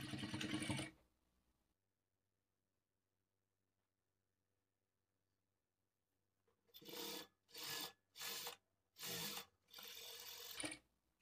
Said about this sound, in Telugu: ఇలా ఫోల్డ్ చేసుకొని ఈ చివరన ఒక స్టిచ్ వేసుకోవాలి.